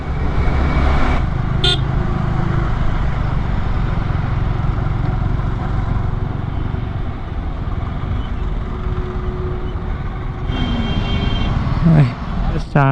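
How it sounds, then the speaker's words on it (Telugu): Heavy road traffic on a highway between Katra and Srinagar: steady loud engine rumble from lorries passing close by, with short horn toots near the start and again toward the end, a voice talking over it. "చూడండి, లారీల మీద లారీలు వస్తూనే ఉన్నాయి."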